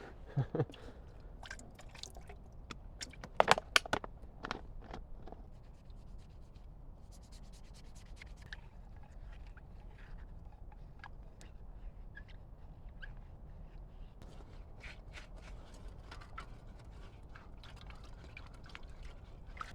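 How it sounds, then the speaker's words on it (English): Pots and pans are washed outdoors with heated water: quiet scrubbing and rubbing, light splashes and drips, and an occasional sharp clank of metal near the start, all faint and close. "I'm going to use this to heat up a little bit of water so I can wash up my pans"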